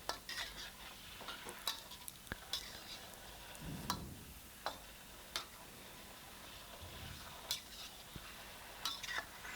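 Tofu skin and long green chillies stirred in thickening sauce in a pan, faint repeated scraping and clicking strokes with soft sizzling underneath in a quiet kitchen.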